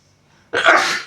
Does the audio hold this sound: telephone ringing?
no